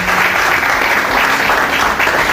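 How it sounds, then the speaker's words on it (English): Conference audience at a women in mining event in Abuja, Nigeria applauding, a loud, dense and steady burst of clapping from many hands with no talk over it. "We need to applaud that."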